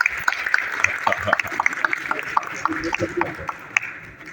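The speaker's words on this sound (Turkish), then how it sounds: "Alkış. Alkış." Guests at a civil wedding ceremony in Istanbul break into brisk applause, a dense patter of claps with sharp individual hits, mixed with cheering voices and chatter close by.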